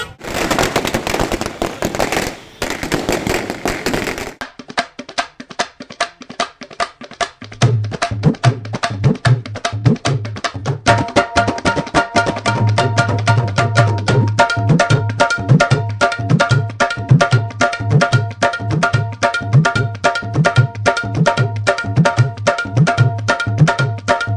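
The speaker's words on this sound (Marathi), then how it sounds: "फटाक्यांच्या आतिषबाजीमध्ये कार्यकर्त्यांनी जल्लोष साजरा केला" Rapid strings of firecrackers burst loudly and continuously at a street celebration, sharp crackling pops in dense rhythmic volleys with a few louder bangs at the start.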